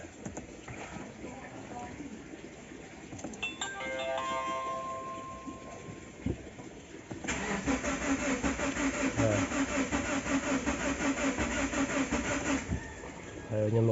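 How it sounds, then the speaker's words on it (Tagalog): A Subaru Forester engine cranks without catching. A quiet stretch with faint talk and clatter gives way to several seconds of loud, rapid, rhythmic starter churning close by. "Ayaw mag-start, crank lang ng crank."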